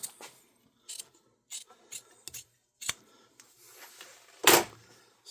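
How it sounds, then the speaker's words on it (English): Scissors trim leather for handmade medieval-style boots in short, close, irregular snips and rustles separated by silence, ending with one louder crunchy cut. "I'm just taking some scissors and I'm trimming"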